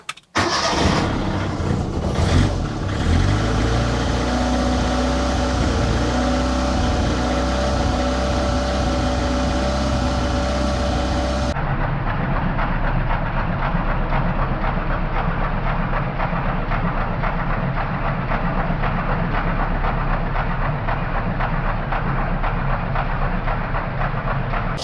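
An Autobianchi A112 Abarth with a suspected noisy tappet fault cranks and catches, then settles into a steady close idle that runs on alone with no talk; the tone shifts partway through but the engine keeps running.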